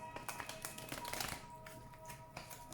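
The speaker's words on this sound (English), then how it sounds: "Just as I shuffle the cards" Oracle cards are shuffled, giving quick soft riffling taps and flicks in short bursts, faint and close, with no talking.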